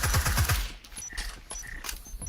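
Rapid gunfire tears through a wall in a Breachers VR league match, a quick stuttering burst of shots up front, then scattered sharp cracks and metallic pings, loud and close with no voices.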